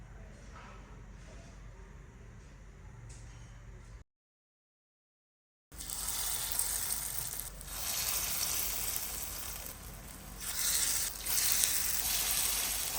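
Oil sizzles on a hot griddle for green corn fritters, a steady close hiss broken by a short gap of silence before it returns louder and brighter.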